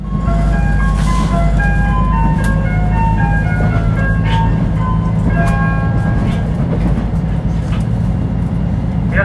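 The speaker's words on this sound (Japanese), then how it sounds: "レトロライナー琴平駅発車いたします。" JR Shikoku KiHa 185 Retro Liner diesel train departing Kotohira Station, a loud steady engine rumble under a repeating electronic station melody, close by.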